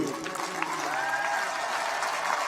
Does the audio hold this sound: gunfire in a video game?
no